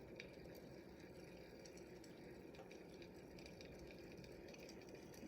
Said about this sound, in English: now it sounds like it's boiling a little bit more